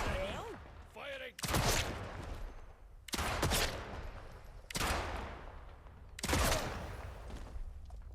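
Gunfire in the video game Atomfall: four loud, close bursts of shots spaced about every one and a half seconds, each ending in a ringing tail, with a voice speaking briefly before the first.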